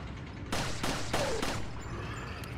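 Several pistol gunshots in the video game Resident Evil 4, four sharp reports in quick succession over steady game background noise, with no talk.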